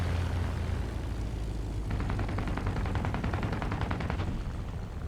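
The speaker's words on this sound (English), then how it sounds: "What the hell are you shooting at?" A rapid burst of automatic gunfire rattles over a constant heavy engine rumble in War Thunder, with a Matilda Mk III tank and Hurricane Mk IV aircraft in play, the shots fairly distant and evenly spaced.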